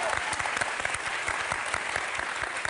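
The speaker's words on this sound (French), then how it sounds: "on n'applaudit pas" A television studio audience applauds, a dense, steady clatter of many hands that fills the whole stretch with sharper individual claps standing out.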